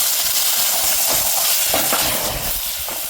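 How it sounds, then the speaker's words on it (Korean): Kimchi stir-fried in sesame oil in a hot pan, giving a steady close sizzle with scraping stir strokes throughout. "참기름에 김치를 볶습니다"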